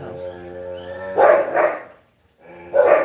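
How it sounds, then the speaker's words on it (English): Puppies barking close by indoors, a drawn-out whining yip followed by two sharp barks, a brief pause, then another loud bark. "I have puppies around."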